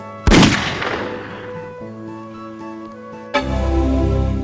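Shotgun sound effect played from an iPad app, a single booming blast with a long decaying tail, followed by a low mechanical rumble.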